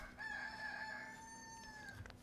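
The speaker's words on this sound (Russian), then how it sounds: "Вон, петух здесь появился." A single rooster crow in Crusader Kings 3, drawn out and faint against a quiet game background hum.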